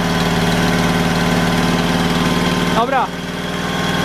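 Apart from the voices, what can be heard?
Fiat Cinquecento 700 engine idling with Fiat 126p carburettor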